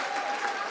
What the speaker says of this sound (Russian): шквал оваций в твою сторону от этого зала прямо сейчас